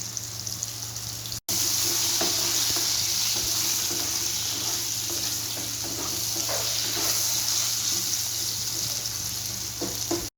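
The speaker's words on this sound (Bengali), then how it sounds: "আলুটা আমি লাল লাল করে একটু ভেজে তুলে নেব।" Potato pieces lightly salted and frying in hot oil for a Bengali katla fish kalia, a loud continuous sizzle with crackling bursts, broken by one brief gap near the start.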